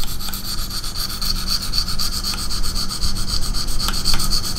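A knife blade drawn across a KME diamond sharpening stone, giving a steady, close scraping rub with light rhythmic strokes and no talk.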